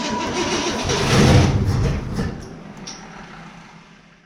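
A Ford Galaxie V8 engine with a freshly rebuilt carburetor cranks and catches, a loud close rumble that swells for about a second and a half and then fades toward a quieter idle.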